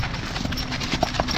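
Hooves of draft horses, a Morgan Percheron mare among them, clip-clop in a steady close rhythm outdoors at a draft animal field day, with a low background hum.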